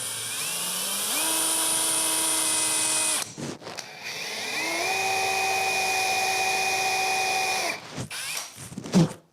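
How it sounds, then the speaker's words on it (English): A power drill bores a hole into a block of wood, whining steadily and loudly for a few seconds, pausing briefly, then running again at a slightly higher pitch before stopping with a clunk. "When you're drilling the hole inside,"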